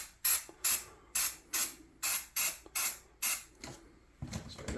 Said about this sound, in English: So back up from a distance and spray.